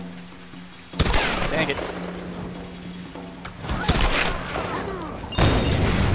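Gunfire in the video game Tomb Raider bursts out in loud broadband blasts around one, four and five and a half seconds, over a steady hum of game noise while someone speaks briefly.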